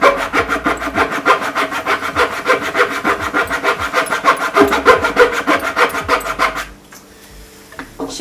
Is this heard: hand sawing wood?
yes